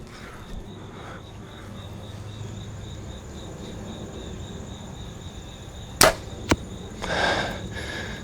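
A Bowtech CP30 compound bow shooting an arrow outdoors at a target about 35 yards away: one sharp close snap of the release, a quick second thwack, then a brief hiss, over steady insect chirping.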